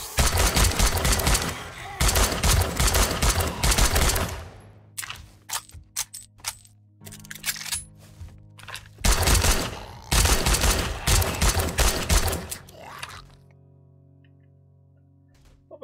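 Heavy automatic gunfire with 7.62 ammo in a video game, two long loud sustained bursts separated by scattered single shots and quieter gaps, ending in near silence.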